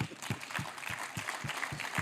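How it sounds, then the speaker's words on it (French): Audience clapping at an evening business conference in a hall at Valexpo, Oyonnax, heard as a sustained, moderately distant patter of many hands with no voices over it. "vous pouvez vous applaudir"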